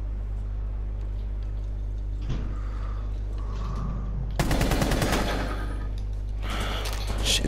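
Rifle fire in a Rainbow Six tactical shooter game, with a Blackbeard operator, comes as loud rapid bursts of shots after a low steady hum and faint mechanical clicks, with one longer burst and a shorter one at the end.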